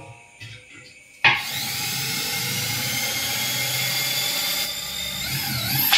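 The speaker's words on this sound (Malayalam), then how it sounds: "ഡ്രിൽ ബിറ്റ് ഒരു ഡ്രിൽ ഉപയോഗിച്ച് ഇതുപോലെ ഡ്രിൽ ഉപയോഗിച്ച് ഹോൾ ഇടുക." An electric drill fitted with a steel-cutting bit bores holes in a discarded steel container being made into a wood stove. After a brief quiet start, a loud, steady grinding whine runs continuously, close by and alone.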